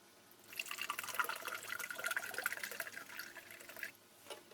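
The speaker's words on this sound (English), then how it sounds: "Just add some water to this." Water pours steadily into a canteen cup for a few seconds while preparing a Czech military ration, a bright splashing trickle that fades out, fairly quiet and close.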